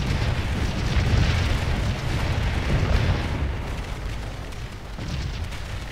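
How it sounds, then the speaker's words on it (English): Artillery cannon fire in the Civil War battle game Scourge of War Gettysburg, with dense rumbling booms rolling continuously and overlapping, loud and distant-sounding, with no voices. "Look at the amount of cannons."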